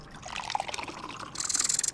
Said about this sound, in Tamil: இந்த கிளாஸ்லையும் இந்த கிளாஸ்லையும் மார்க்கெட்டில் ரொம்ப ஃபேமஸாக இருக்கிற மாசாவையும் ஸ்லைஸையும் ஊற்ற போகிறேன்.